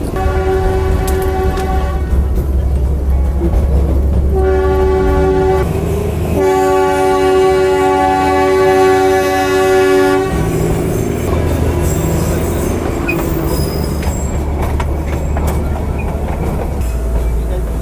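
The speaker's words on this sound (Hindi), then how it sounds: "और अब हमारी ट्रेन कुछ समय तक ऐसे रिवर्स डायरेक्शन में ही चलने वाली है।" The Darjeeling toy train on the NJP to Darjeeling line runs in reverse with a loud, close rumble. Long horn blasts sound repeatedly over the running noise, then the wheels squeal and rattle on the track.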